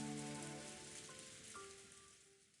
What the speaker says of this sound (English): the obnoxious pounding of the rain against the window